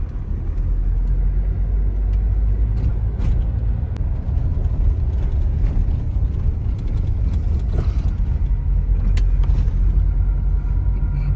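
A car drives slowly toward the parking area by the gate of the Omkareshwar Jyotirlinga temple, a steady low engine and road rumble holding close and even throughout with faint mechanical clicks on top.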